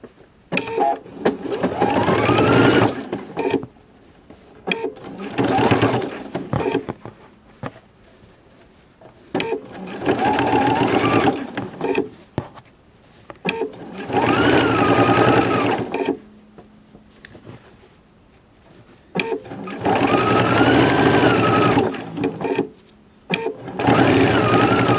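A sewing machine sews down piping in five bursts of rapid motor whir and needle chatter, each a few seconds long. Short quiet pauses separate the bursts, and the machine is close and loud with no voices.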